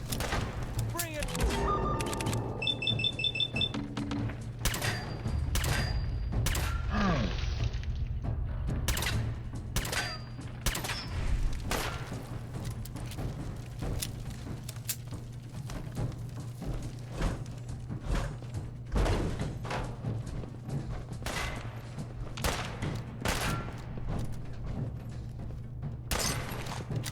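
Bursts of gunfire in Fallout 4 crack out in rapid, repeated volleys over a low hum, some shots close and sharp, others scattered, with someone talking in between.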